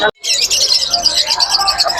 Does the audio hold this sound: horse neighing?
no